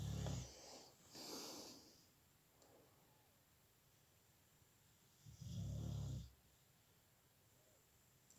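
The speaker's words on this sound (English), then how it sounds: "snores loudly, didn't she?" A female dog snores loudly in two heavy, rasping bursts separated by quieter breathing, close to the microphone in a calm room.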